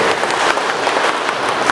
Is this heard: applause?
yes